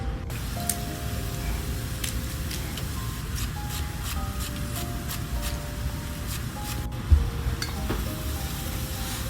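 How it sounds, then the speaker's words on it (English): Soup being stirred in a pot during a home cooking session: a steady, close scraping and bubbling texture runs throughout, with one brief thump near the end and no talking. "Chopping vegetables, stirring the pot."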